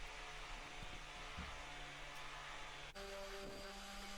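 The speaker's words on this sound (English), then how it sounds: "So here I'm just using a detail sander and just smoothing over all the edges." Detail sander smoothing the edges of an oak hammer handle: a constant, even whine that holds steady, then shifts pitch abruptly near the end as pressure or contact changes, heard alone without voices.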